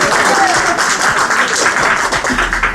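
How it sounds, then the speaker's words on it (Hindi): Audience clapping fills the room, a dense steady patter of many hands at close range, holding loud throughout with a speaker's voice faintly underneath. "अपने लिए जोरदार तालियां।"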